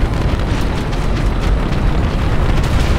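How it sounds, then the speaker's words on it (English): Bombs dropped from a plane's bomb bay in GTA 5 explode in a loud, dense continuous roar of blasts and rumble, sustained for several seconds without pause. "Watch out for bombs."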